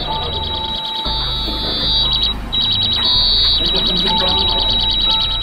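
Rapid high-pitched electronic beeping from a gas detector alarm in underground catacombs, loud and continuous in quick pulses, with a low rumble and brief speech underneath.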